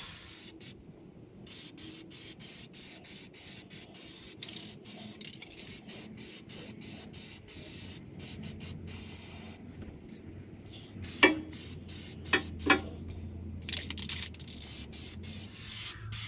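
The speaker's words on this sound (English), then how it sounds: "Now to do a little bit of spray painting here." Short bursts of aerosol spray paint hiss on and off in an irregular rhythm, close by, painting an exhaust part on a 2007 Freightliner Columbia truck, with a few sharp clicks near the end.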